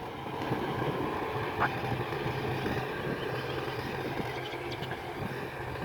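Mahindra 275 tractor working a field with a 5-tyne cultivator: a steady, continuous engine drone and rumble runs unbroken throughout, moderately near, with no talk.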